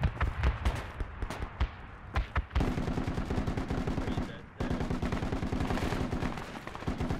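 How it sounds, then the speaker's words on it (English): Rapid automatic gunfire from across the street in the video game Project Reality, set in Fallujah West: long, dense bursts of sharp rhythmic shots, some sparser single cracks at first, then sustained loud fire with a brief pause midway. "Taking fire from across the street."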